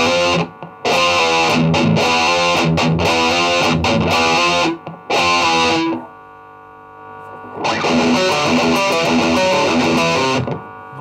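A BOSS guitar processor set to a metal distortion tone plays heavy, saturated electric guitar chords in loud bursts, with abrupt stops, a short quiet gap with ringing sustain, then another loud chugging phrase.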